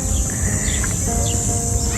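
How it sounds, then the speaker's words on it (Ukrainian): A bird calls outdoors in Varna's Sea Garden park, giving a few short, thin chirps over a steady hiss of background ambience. "Що це? Це птах? Це птах."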